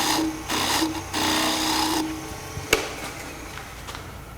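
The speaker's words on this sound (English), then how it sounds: "I'm just scraping on that bottom tip down there just to clean up that little bit right there" Wood lathe spindle turning a Christmas bell, a tool scraping the bottom tip in short, whirring bursts with a sharp tap near the end.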